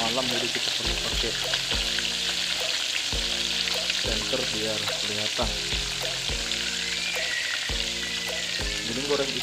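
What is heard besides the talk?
whole fish frying in hot oil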